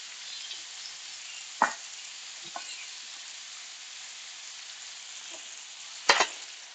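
Onions frying in a pan give a soft, continuous sizzle at moderate distance, punctuated by a few sharp clicks and scrapes of a utensil.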